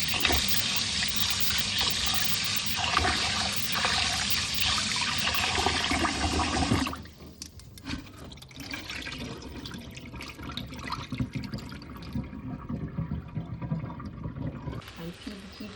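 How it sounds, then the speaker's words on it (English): A pound of rice is rinsed under running water, a loud steady rush of tap water splashing into a bowl that cuts off partway, followed by quieter trickling and sloshing as the grains are swished. "so we just have to wash it until the water runs clear."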